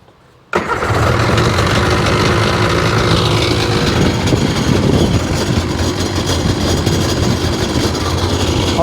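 A Sea-Doo RFI 787 jet ski engine, run on a garden hose outdoors after hard starting, catches abruptly after a short quiet moment and then roars loudly and steadily, close by, for the rest of the clip.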